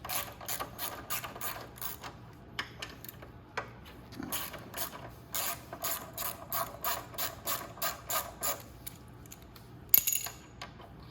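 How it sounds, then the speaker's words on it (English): A 10mm ratchet wrench loosening two brake caliper bolts on a Venom 2000W E-Vader electric moto, rapid close clicking in bursts with short pauses between strokes and a louder clack near the end. "we're gonna grab our 10mm again, and we're gonna remove the brake"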